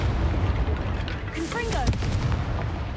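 Confringo blasting spell from Hogwarts Legacy going off in a single loud boom over dense, continuous game battle noise and music, with a brief whooshing burst near the middle.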